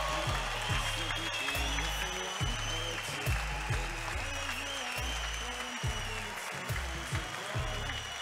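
Crowd cheering and applauding after a national record at the national swimming championships in Funchal, with steady dense clapping and cheers filling the venue, an announcer's amplified voice and strong low thumps of music running under the applause.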